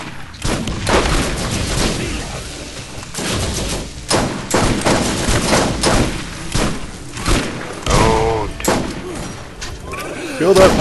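Gunfire from a turret in the game Borderlands rattles out in dense repeated bursts with booming thuds, loud and continuous throughout, mixed with a player's voice talking over it.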